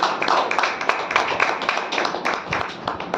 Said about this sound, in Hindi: तो हम सब तालियां बजा करके भाई का भजन लाल जी का स्वागत करेंगे